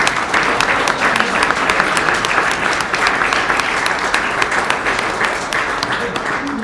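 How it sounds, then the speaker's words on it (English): Applause from an audience at a live Martin Luther King celebration, a dense, steady wash of many clapping hands that stays loud and unbroken throughout, with some crowd noise mixed in. "Let's give them all another round of applause."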